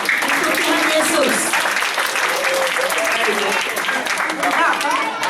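Applause from a church congregation for Jesus, steady dense clapping mixed with voices and some shouting, loud throughout.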